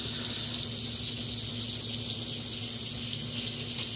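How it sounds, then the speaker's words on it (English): A leftover mixture being rinsed off under a running tap, a steady close hiss and gush of water filling the sink without a break. "So, I'll just wash the rest of that off."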